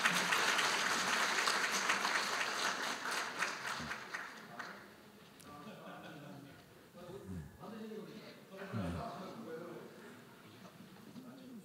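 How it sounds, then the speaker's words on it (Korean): An audience at an award ceremony for an academic conference opening applauds in a burst that fades after about four seconds, fairly faint and roomy, followed by a speaker talking over a quiet hall. "네, 큰 박수 부탁드립니다."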